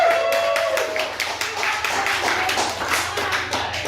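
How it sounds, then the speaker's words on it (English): A small comedy show audience claps, distinct individual hand claps in an uneven rhythm, fairly close, with a low steady hum underneath. "Give yourself a big round of applause."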